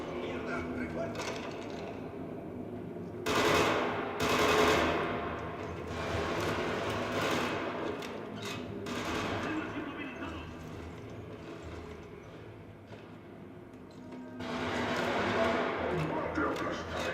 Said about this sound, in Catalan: el so de com ressonen les bales a dintre d'aquesta estructura metàl·lica és brutal